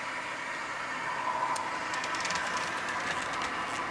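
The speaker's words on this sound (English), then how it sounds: "So here comes the locomotive. It's doing full speed" A model railway locomotive runs at full speed past the listener, a steady mechanical rolling hum with faint metallic clicks and squeaks rising midway, continuous and moderately quiet with no voices.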